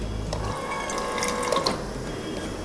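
Crushed ice rattles out of a high-end refrigerator door dispenser in a short clattering burst with a mechanical ratcheting whir, near and fairly loud, no talk.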